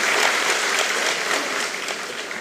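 Steady, full applause rises from the audience in a parliamentary assembly chamber, an unbroken wash of many hands clapping at once.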